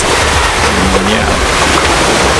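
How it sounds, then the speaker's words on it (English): Seaside ocean waves at Davao wash in a steady, loud rush with wind noise on the microphone, and a faint voice or hum briefly rises within it. "Listening to the waves, seeing the beauty."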